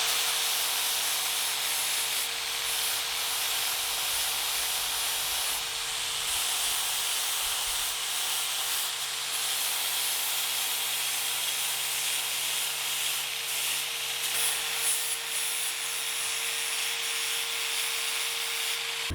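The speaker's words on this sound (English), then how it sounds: "right now I'm using that 80 grit abrasive disc, and I'm just going to go and smooth around the corners" A sander with an 80 grit abrasive disc smoothing the corners of a wooden fence post capital, giving a steady, close, continuous hissing grind with a constant motor hum underneath and no talking.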